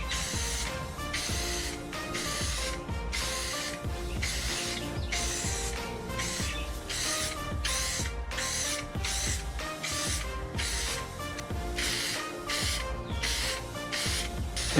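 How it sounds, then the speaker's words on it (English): Short bursts of hissing clear coat from a spray can, applied to car parts, repeat in a steady rhythm close by, each lasting about a second with brief gaps between them. "Time for the second and final thing of clear coat."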